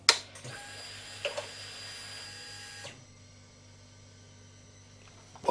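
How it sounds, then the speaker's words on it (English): A Triumph Speed Twin motorcycle fuel pump runs with a steady electric whir and faint buzzing tones. It cuts off about halfway through, leaving near silence. "So this is the Triumph Speed Twin fuel pump."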